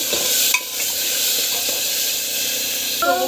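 Tomato paste with salt sautéing in a pan, a steady close hiss and sizzle with a few scraping stirs of a spatula against the pan.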